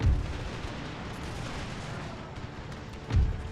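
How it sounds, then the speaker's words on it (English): Cannon fire in the video game Empire: Total War, deep booming blasts at the start and again near the end over a continuous rumbling battle din, loud and without speech. "My cannons broke through."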